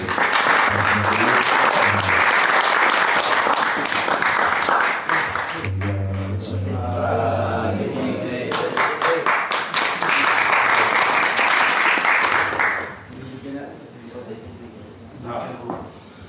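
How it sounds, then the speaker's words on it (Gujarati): Audience applause at a Swaminarayan satsang assembly in Chicago, loud sustained clapping from a large crowd lasting about twelve seconds before it fades, with a voice speaking over part of it. "તાળીઓના નાદથી આપણે પ્રાર્થના કરીએ."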